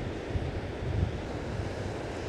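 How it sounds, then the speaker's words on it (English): Ocean waves roll in toward a cliff across a bay, a continuous low rumbling wash with gentle surges, heard from a distance and mixed with wind buffeting the microphone. "see those waves coming in, heading towards the cliff ever so slowly"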